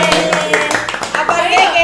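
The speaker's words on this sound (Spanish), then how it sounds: "Armando merece un aplauso." A small group clapping during a casual podcast-style conversation, several quick bursts of hand claps mixed with lively nearby voices and laughter.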